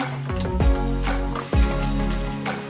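Onion and tomato pieces frying in oil for a masala, a continuous close crackling sizzle with a few louder stirring swishes and low thuds, no voices.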